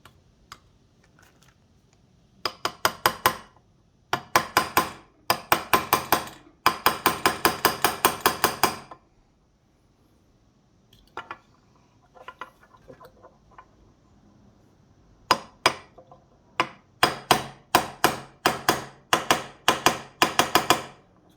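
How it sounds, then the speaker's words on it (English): A small hammer lightly tapping a crankshaft seal into place on a Binford Bad Boy engine, sharp metallic taps in quick rhythmic bursts separated by short pauses, close and fairly loud. "Notice how I got a little hammer and I'm tapping it."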